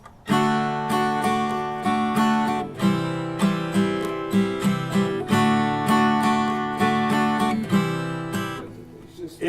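Strummed guitar chords hit repeatedly, each one choked off abruptly so short gaps of silence break the rhythm, giving a clunky, stop-start chord change; loud, close and without talk.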